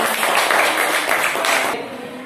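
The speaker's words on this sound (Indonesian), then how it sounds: "Tepuk tangan" Classroom pupils clap their hands together in a dense, fairly loud, continuous patter that stops abruptly near the end.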